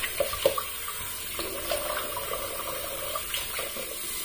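Cold water runs from a bathroom tap while someone splashes and rinses their face after shaving, giving a steady near stream broken by a few brief splashy bursts.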